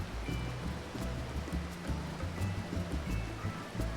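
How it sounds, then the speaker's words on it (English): Steady rain in the video game Final Fantasy XIV, a continuous wash of falling water with scattered drop patter and a low rumbling bed underneath, even and unbroken throughout. "So, it's raining here."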